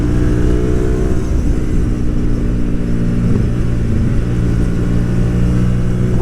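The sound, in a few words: Hyosung GTR250R motorcycle engine revving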